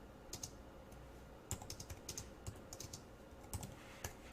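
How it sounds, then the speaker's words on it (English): Someone types on a computer keyboard nearby. The keystrokes come in quick, uneven bursts with brief pauses between them, crisp and moderately quiet, and no one speaks. "Now, as I'm typing this,"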